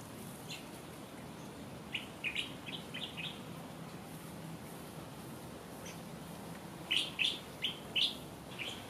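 Village weavers in The Gambia give quick, high, scratchy chirps in short bursts, a cluster early and another sharper cluster near the end, fairly close over a faint background hiss.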